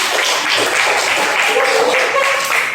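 A school class applauds, dense continuous clapping from many hands filling the room, with a few voices mixed underneath.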